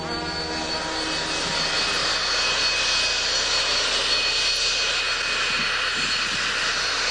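A small airplane's engine drones loud and steady in the cabin during a one-hour flight north from Vancouver along the coast to Port Hardy. The roar is constant throughout, with no voices over it.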